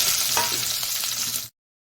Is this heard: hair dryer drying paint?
no